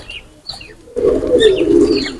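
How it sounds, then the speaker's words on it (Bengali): Rampuri Chamdakhani pigeons coo in low, throaty, rolling notes that swell in after a moment of quieter chirps and rustling, close by and continuing to the end. "পিওর ব্লাড লাইনের কবুতর, রামপুরি চামদাখানি কবুতর"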